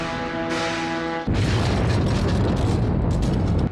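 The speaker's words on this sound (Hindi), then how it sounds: "8:45 पर पेशावर का इलाका सदर कालीबाड़ी बम धमाके से गूंज उठा।" Bomb blast in the Sadar Kalibari area of Peshawar, captured on a security camera: a sudden heavy boom cuts in after a low steady hum, followed by a long, loud rumbling roar.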